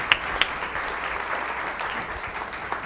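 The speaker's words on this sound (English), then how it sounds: "Can we give them a round of applause?" Audience applauding panelists at the close of a business panel on employee retention: a few sharp claps up front, then a short, moderate wash of clapping from a modest crowd.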